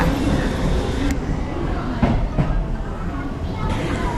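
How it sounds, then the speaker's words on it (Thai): A Nagoya Aonami Line train rumbles into a station with steady broadband roar and a few sharp clanks, loud and close, over continuous platform noise. "แล้วรถของเราก็มาแล้วล่ะค่ะ รถไฟสายอาโอนามิค่ะ"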